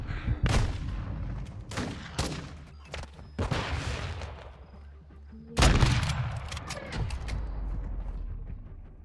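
Gunfire in Modern Warfare 2, with separate sharp shots and short bursts at irregular intervals, some loud and close, others more distant, plus one heavy blast midway.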